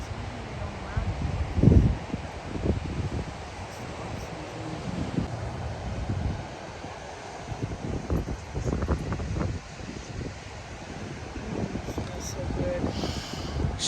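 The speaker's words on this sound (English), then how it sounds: "It's a little windy." Steady gusting wind buffets the microphone on an off-season Jersey Shore beach at Island Beach State Park, with surf rumbling underneath and brief bursts of louder wind noise.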